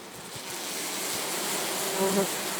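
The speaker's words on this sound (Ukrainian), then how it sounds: "Бджіл повно. Все забудоване." Honeybees crowd an opened clay wattle-and-daub hive, producing a dense, steady, close buzzing drone that swells slightly near the end.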